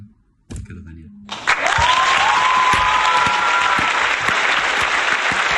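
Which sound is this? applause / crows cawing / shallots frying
applause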